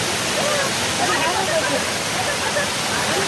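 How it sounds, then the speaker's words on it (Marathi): Waterfalls crash down along the Bhimashankar trek in a constant loud roar of falling water, near and unbroken, with faint voices mixed into the rush. "खूप छान धबधबे कोसळत आहेत."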